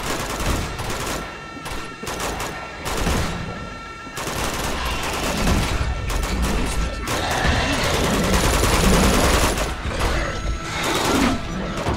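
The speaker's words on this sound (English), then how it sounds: "Are they shooting at me now?" Gunfire in the video game Uncharted 2: Among Thieves, with dense, loud volleys of rapid shots and mechanical clatter running almost continuously, broken by a few short lulls.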